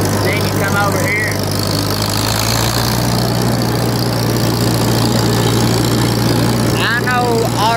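A Farmall 350 tractor engine with a Woods 208 cutter attached runs steadily nearby, giving a loud, constant low rumble with a droning hum and no break.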